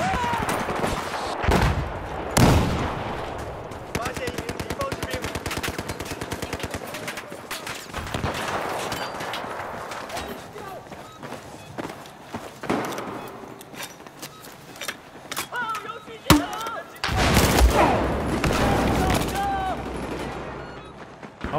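Shotgun slug rounds and other gunfire in Battlefield 4 combat, with repeated heavy shots and bursts over a busy, continuous battle bed, voices talking now and then.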